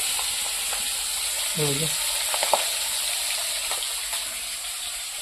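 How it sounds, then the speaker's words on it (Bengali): Fish frying in a pan sizzles in a steady, close hiss, with a brief low clatter of stirring and a few soft knocks partway through; no voices. "আর এখন বাকি মাছগুলো ভাজতেছে"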